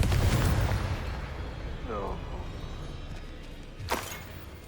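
A Confringo blasting spell explodes in Hogwarts Legacy with one loud burst at the start, followed by a short sharp crack later. A voice shouts in between.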